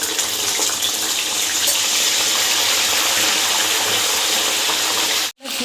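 Water is drained off soaked ragi, a loud, continuous gushing and splashing that cuts out abruptly for a moment near the end.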